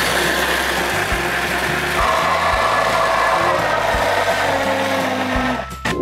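An ice cream machine churning creamy fruit puree, a loud steady mechanical whir with rhythmic low thumps from the turning mechanism, running continuously before winding down near the end.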